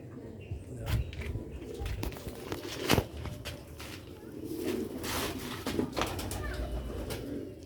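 Pigeons cooing in a rooftop loft, with soft repeated throaty coos close by, scattered wing flutters and shuffling noises, and faint background hum.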